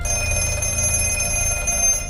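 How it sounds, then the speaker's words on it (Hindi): A telephone rings with a sustained bright metallic ringing tone, fairly clear and continuous for a couple of seconds with no voices. "तभी दोबारा फोन बजता है।"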